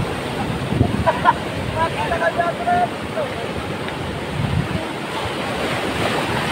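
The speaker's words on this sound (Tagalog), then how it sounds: "Natatakot ka sa alon ah." Ocean surf at a beach in Silago, a continuous wash of waves under heavy wind buffeting the microphone, with people talking nearby.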